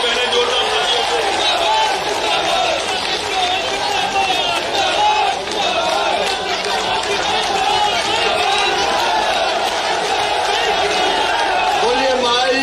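A large outdoor rally crowd for the Chief Minister in Datia, with dense, loud, continuous clapping and cheering that holds steady for the whole stretch, voices mixed into the roar.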